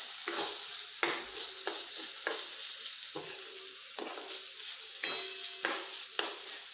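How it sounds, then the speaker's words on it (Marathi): Onion, tomato and garlic fry in a pan for a cashew curry. A spatula scrapes and stirs them in regular strokes over a continuous close sizzle. "टोमॅटो पूर्णपणे यामध्ये स्मॅश होईपर्यंत आपण हे तळसून घेणार आहोत"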